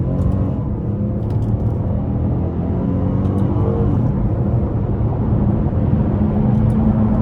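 A naturally aspirated V6 in a 2019 Chevrolet Impala LT, in manual mode at full throttle, gives a loud, continuous engine drone inside the cabin that climbs gradually as the car accelerates.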